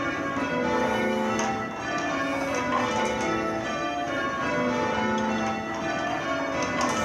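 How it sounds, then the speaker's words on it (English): Tower church bells change-ringing in sequence, each bell striking right after the one before, producing a steady, evenly spaced run of clear metallic tones with lingering overlapping rings and no voices. "Can you hear each bell? Just each bell, just individually."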